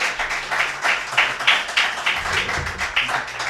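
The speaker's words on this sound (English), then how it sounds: "Let's have a big round of applause for Craig Silverman and Corey Brown." An audience at a talk session gives a short round of applause, a close, moderately loud patter of clapping with uneven pulses for a few seconds.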